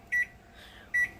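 Two short, loud electronic beeps from a microwave oven keypad as the timer is set while making tortillas, spaced about a second apart with a faint hum between.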